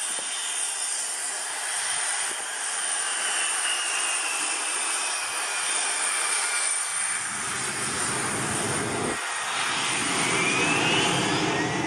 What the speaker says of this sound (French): Faire atterrir un Boeing peut constituer un véritable spectacle, surtout lorsque les conditions météorologiques sont difficiles.